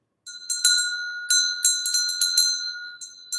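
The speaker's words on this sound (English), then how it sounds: "I'll ring the bell for you" A small bell is rung in a workshop during a live stream, struck repeatedly in quick bright clusters with ringing tones lingering between strikes, close and clear with no talk.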